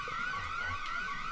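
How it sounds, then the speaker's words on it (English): Police sirens wailing in the Metro Sim Hustle video game, a faint rising-and-falling electronic tone that sweeps continuously, heard alone. "The sirens are going off."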